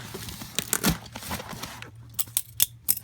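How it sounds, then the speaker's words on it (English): Bubble wrap is handled and crumpled during a canard install, giving sharp crinkles and crackles in irregular bursts, close and fairly quiet, with pauses between handfuls. "A bunch of bubble wrap."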